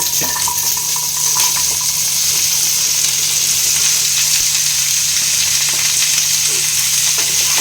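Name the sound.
ridge gourd frying in oil with panch phoron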